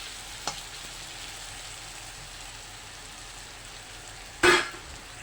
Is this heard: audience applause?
no